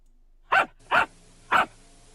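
Three short, loud dog barks in a flash video game, evenly spaced about half a second apart and standing alone against near silence.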